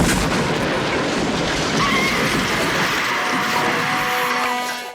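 A rocket launcher blast from the action film Death Wish 3, a loud sustained roaring burst of explosive fire that rumbles steadily for several seconds before cutting off.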